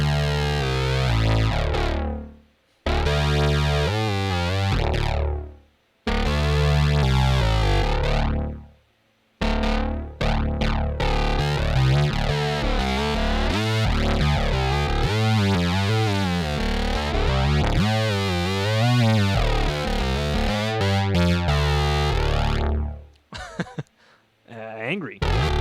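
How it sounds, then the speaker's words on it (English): A Behringer Deepmind 12 synth patch driven through its multiband distortion set nearly all the way up, playing gritty, buzzing notes in sustained phrases with short gaps and wobbling, sweeping harmonics. "That's coming from the effects section, mostly this multiband distortion, which is turned to almost totally all the way up."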